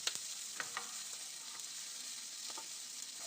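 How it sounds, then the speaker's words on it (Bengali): Ground spices sauté in a pan with a little water for a curd and pointed gourd curry, giving a steady sizzle with a few soft stirring scrapes and taps. "এবার সব মশলাগুলোকে একসাথে আরও কিছুক্ষণ এইভাবে কষিয়ে নেব।"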